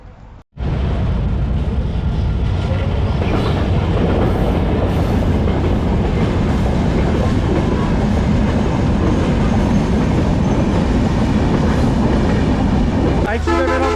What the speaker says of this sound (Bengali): ঠিক রাস্তার মুখে এখানে ট্রেনের সিগন্যাল, অটোমেটেড ট্রেনের সিগন্যাল মনে হচ্ছে।